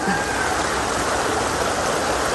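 A broad river running high during a flood churns with a loud, unbroken rushing roar close at hand, steady from start to finish and free of speech.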